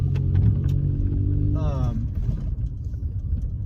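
A car rumbles past close by on the road, its engine drone steady throughout, and a brief whine rises midway.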